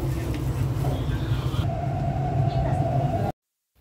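Hong Kong train in Sha Tin rumbling steadily at a station, with a door chime tone sounding near the end before the sound cuts off abruptly.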